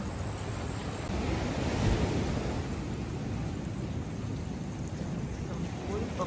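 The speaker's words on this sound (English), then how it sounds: "Wow, lakas ng alon. High tide ngayon." Strong ocean waves at high tide at a beach resort in Morong, Bataan, a continuous loud surf roar with a swelling surge near two seconds, mixed with wind buffeting the microphone.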